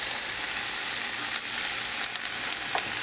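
Finely chopped red onion and mushrooms frying in coconut oil, a dense, steady close sizzle with a few light stirring clicks.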